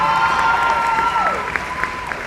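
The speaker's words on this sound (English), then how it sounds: "Big round of applause." Graduation ceremony crowd clapping steadily in a hall, a broad wash of applause with a sustained tone and a voice running through it.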